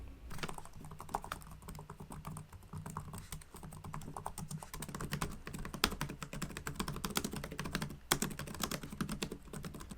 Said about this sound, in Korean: 조용한 독서실 같은 곳에서 타이핑하면 엄청 눈치 보일 것 같습니다.